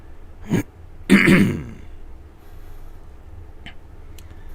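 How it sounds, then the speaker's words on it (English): Someone nearby gives a short cough, then clears their throat loudly, followed by quiet background hum with a faint click or two. "Keep coughing in your ear."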